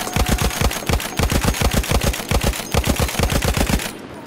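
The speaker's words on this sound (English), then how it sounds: "Machine gun! Hostile!" Rapid machine gun fire in Battlefield 1 multiplayer, a loud close burst of evenly spaced rounds running almost four seconds before cutting off abruptly.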